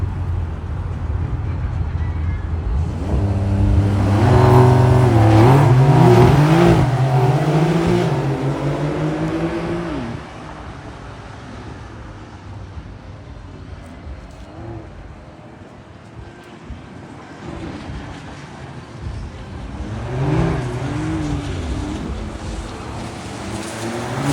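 Porsche cars at a car show line up and race, engines revving hard and rising in pitch as they accelerate away, then the roar fades into wind noise before a second surge of engine sound later on.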